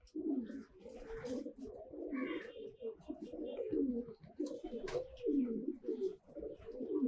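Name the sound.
pigeon cooing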